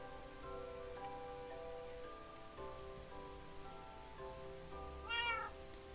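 A cat meows once in the video game Minecraft, a short rising cry near the end, heard over soft, steady rain-like game ambience and faint tonal background music.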